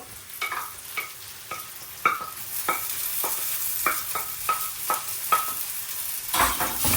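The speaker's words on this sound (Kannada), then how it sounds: "ಆನಿಯನ್ ಆಲ್ಮೋಸ್ಟ್ ಫ್ರೈ ಆಗಿದೆ" Onions fry in a pan under a steady sizzle while a spoon stirs them in a quick rhythm of repeated scraping clinks, close and fairly loud, with no talking.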